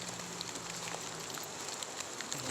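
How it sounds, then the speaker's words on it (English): Steady rain falls outdoors in Jamaica along a wooded riverside path, a faint, even hiss of drops on surfaces with no voices present. "And the rain is falling."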